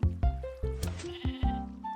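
Sheep in the Minecraft video game bleating several times in quick succession, loud and close, with each wavering bleat overlapping the next against a faint game background.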